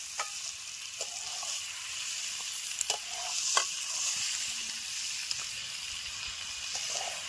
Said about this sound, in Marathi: आता हाय ह्याच्यातच तळून निघतील मासं, कारण माशाला जास्त शिजवायला लागत नाही.